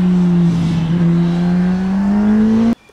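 A Kawasaki ZX-10R motorcycle engine idling and revving at the Sepang circuit in hot weather, a steady loud drone that rises slowly in pitch over a few seconds and then cuts off abruptly.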